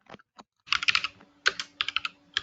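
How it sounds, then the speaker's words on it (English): Someone types in short, uneven bursts on a mechanical computer keyboard, the keys clacking crisply and close, with brief pauses between runs of strokes. "it's got to be one of those mechanical keyboards"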